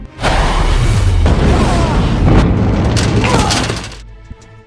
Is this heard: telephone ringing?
no